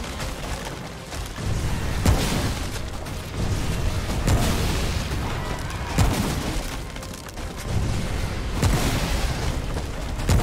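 Rapid gunfire and heavy booming explosions from the co-op shooter Remnant: From Ashes, dense and continuous, with loud bursts recurring every couple of seconds over a constant roar.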